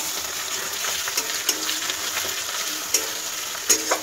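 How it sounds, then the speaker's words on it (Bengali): Ginger and garlic sauté in hot oil for an egg tarka, a steady close sizzle broken by several sharp spatula scrapes and clicks against the pan. "এবার এটাকে আবার একটু কষাবো"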